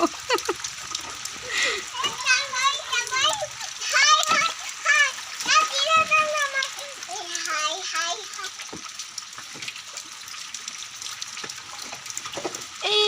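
A small child splashes in bath water, with intermittent sloshing and water sounds running under near, continuous talk from an adult and a child throughout.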